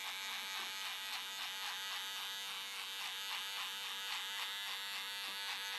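Electric clippers buzz steadily close by as they trim the tips of hair during a haircut, a continuous whirring hum with slight pulsing as the blades move.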